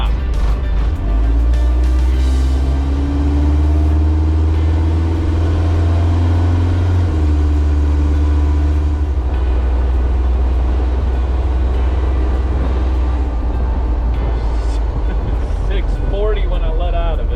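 A Kubota V2403 diesel engine runs steadily with its wastegate forced shut during boost and fuel adjustment, a loud continuous low drone that shifts pitch partway through, with brief talk over it.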